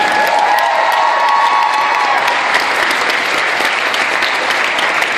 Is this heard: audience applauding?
yes